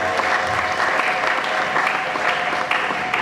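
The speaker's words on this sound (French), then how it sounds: "nous acclamons très fort" A congregation at a charismatic community prayer crusade for the nation applauds the Lord, steady loud clapping from a large crowd filling the whole stretch without a break.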